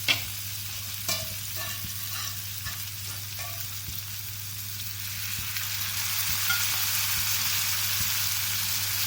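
Dal goes into a pan of fried onions and tomatoes, setting off a continuous close sizzle with occasional stirring clinks and scrapes that swells slightly louder toward the end, with no talking.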